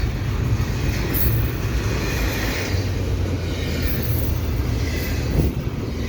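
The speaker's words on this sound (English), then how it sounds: "Double stack headed through Pine Beach as I'm waiting for my train." A long double-stack freight train rumbles steadily past nearby, its wheels grinding and clattering on the rails in a continuous low roar.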